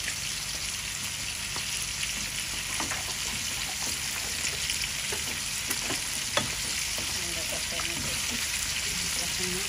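Ginger and garlic paste fries in oil in a pan alongside tilapia, cauliflower and chicken liver, giving a steady close sizzle broken by light clicks of stirring.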